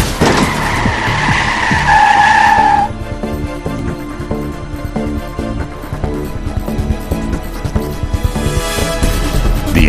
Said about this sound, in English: A sudden steering maneuver to avoid a collision, the vehicle starts to skid and you lose control.